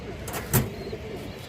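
A Bagha pigeon gives a single short, low coo, faint against steady background hum.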